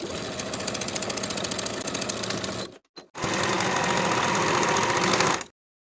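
A sewing machine stitches denim pocket lining along a 3/8 inch seam in two steady, loud mechanical runs, split by a brief stop of about half a second, and no voices.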